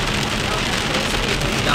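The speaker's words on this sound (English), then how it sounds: "Lakas ng ulan, look." Heavy rain pours down outside a pizzeria in a dense, loud, steady wash of drumming drops, with no pauses across the whole stretch.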